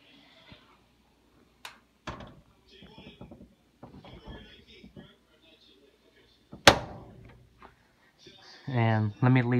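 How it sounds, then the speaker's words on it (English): The door of an Amanda clothes dryer shuts with one sharp, loud close bang, preceded by faint handling clicks and followed by a low hum. "let's close the door."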